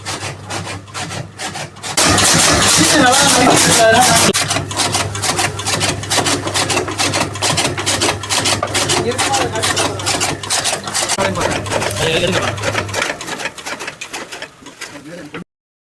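A 2 hp chaff cutter runs loudly and steadily with a dense mechanical rattling and rubbing clatter, close by, while someone talks over it, before the machine winds down near the end.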